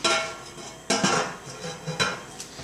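A metal rack is tossed into the bottom of a canning pot, giving a few sharp clanks and rattles of metal against metal, close and clear with no talking.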